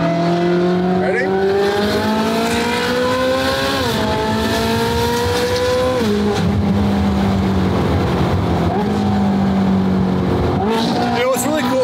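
Ferrari 458 GT3 widebody racecar engine while driving: a loud, steady engine note that climbs and drops through several gear changes, with a shifting harmonic whine, close and continuous throughout.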